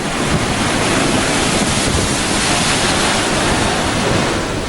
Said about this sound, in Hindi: अपने विनाशकारी वेग के साथ पूरे समंदर को समेटे तट से कुछ ऐसे टकराया सुपर साइक्लोन अम्फान